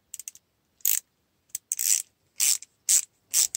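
A clamp is tightened by hand onto a 5/8-inch hose fitted to a vacuum pump, making close, crisp ratcheting clicks in short bursts separated by brief silences.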